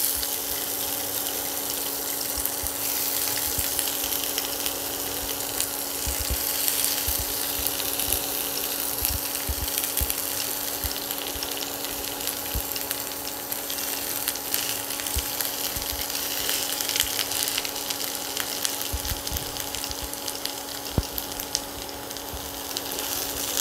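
Mashed boiled potato frying in a little hot oil, a constant close sizzle with scattered small crackles and clicks running throughout.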